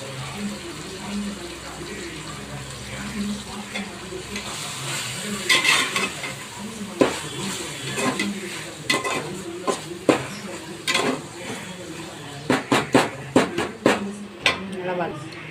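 Mint and coriander leaves sizzling and frying in a pan, with repeated scraping stirs growing busier toward the end over a steady hiss.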